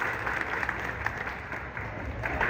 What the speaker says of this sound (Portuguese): Uma salva de palmas para nossa Miguelzinha!